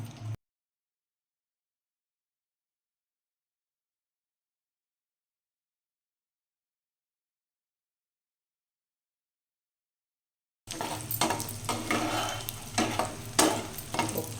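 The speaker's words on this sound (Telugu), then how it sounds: "జీడిపప్పు బాదంపప్పులు వేయించుకుందాం" Cashews and almonds fry in ghee, heard only near the end after a long stretch of silence: a few seconds of close, moderate sizzling with scraping and stirring in the pan, no talking.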